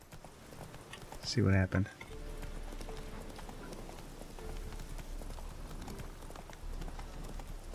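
Horse hooves clip-clopping in a fantasy role-playing video game, a steady faint trotting rhythm continuing under a man's speech and a brief louder burst.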